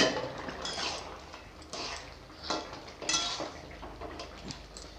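A lid lifted off a pot of simmering vegetable curry, heard as a few light metallic clinks and rattles of cookware over a soft, steady background, fairly quiet with no voices.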